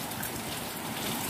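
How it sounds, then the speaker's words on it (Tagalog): Heavy rain pours down steadily, a dense, constant wash of drops drumming on surfaces close by, with no talking. "kasi malakas ang ulan"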